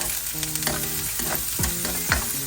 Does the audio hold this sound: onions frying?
yes